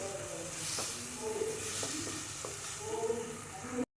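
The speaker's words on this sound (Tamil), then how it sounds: "இந்த உப்பு, அதுக்கப்புறம் மஞ்சத்தூள் எல்லாம் நல்லா அந்த தக்காளி, வெங்காயத்து கூட நல்லா மிக்ஸ் ஆகிற அளவுக்கு நல்லா வதக்கி விட்டுருங்க." Chopped onion and tomato sautéing in a pan with salt and turmeric, a close, moderate sizzle with spatula scrapes and stirring taps, cutting off abruptly at the end.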